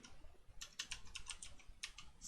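Keystrokes on a computer keyboard as a word is typed into a Photoshop design, a quick run of close, crisp clicks in two short bursts with no talking.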